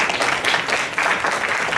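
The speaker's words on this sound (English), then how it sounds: "Let's give a big round of applause to him." An audience at a Carnatic vocal recital applauds with dense, continuous clapping that fills the whole short stretch at an even level.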